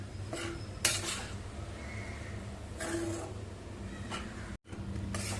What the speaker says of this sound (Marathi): आता आपण सगळी खिचडी चांगली पटापट हलवून घेऊया.